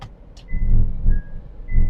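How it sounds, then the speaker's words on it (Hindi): A Honda Freed with a CVT fault sits raised on a lift; its engine dies as it is put into gear, giving a couple of short low rumbling surges and a brief mechanical whine. "जैसे ही मैंने गियर लगाया गाड़ी बंद हो गई है।"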